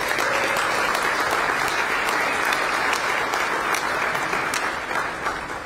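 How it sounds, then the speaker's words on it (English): An audience at the Bexar County State of the County address gives a long round of applause, dense and loud clapping from a full room that holds steady and then eases off near the end. "Can we give Danny a round of applause?"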